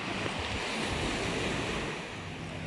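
Steady rush of sea waves breaking close by at Khao Ta-Kiab Beach, Hua Hin, Thailand, a continuous wash of surf with wind noise and no voices.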